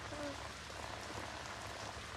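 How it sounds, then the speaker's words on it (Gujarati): Rain begins falling outdoors on the way to a temple, a steady soft patter of drops on surfaces, faint and even throughout. "વરસાદ ચાલુ થઈ ગયો"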